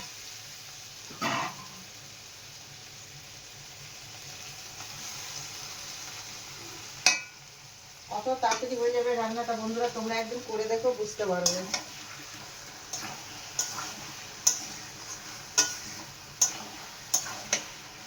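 Lote (Bombay duck) fish and potatoes frying in a pan, a soft sizzle with stirring scrapes and clicks near the mic, and someone talking over part of it.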